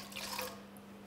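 A small amount of water is poured into an egg yolk during food preparation. It makes a faint, brief, close trickle for about half a second, then gives way to quiet room hum.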